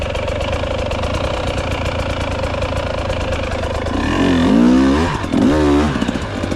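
A KTM 300 TBI two-stroke dirt bike holds a steady stuttering idle, then revs hard twice in first gear with rising, wavering engine pitch, loud and close.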